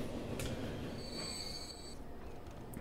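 Trains running in the Transport Fever video game, with a steady rumbling rail bed and thin high wheel squeal tones that hold for about a second in the middle, continuous and moderately loud with no talk.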